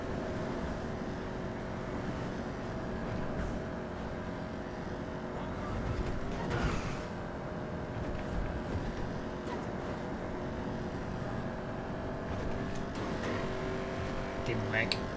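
Race cars in a video game race through heavy traffic, engines droning steadily with passing cars and occasional tire noise, loud and continuous.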